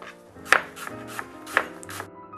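Peeled, cored apples sliced thinly on a cutting board for apple pie filling, two sharp knife strikes about a second apart with softer cuts between, close and with no talk.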